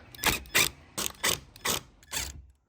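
Ratchet wrench on a 10 mm bolt holding a BMW 5 Series G30 tail light, six short bursts of close, clicking ratcheting with brief pauses between strokes, no talking.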